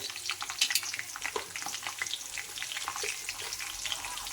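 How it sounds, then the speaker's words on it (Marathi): Chilli, peanuts and curry leaves frying in hot oil for chiwda, an uneven crackling sizzle with sharp spatters early on that settle into a steady hiss, close up with no talking. "हे आपण गरम तेलात मी पहिले फ्राय करू"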